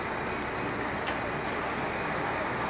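A waterfall stream in Baracoa, Honduras runs downhill from the hills and flows between houses, giving a steady, broadband rushing of water that stays constant and fairly near throughout, with no voices.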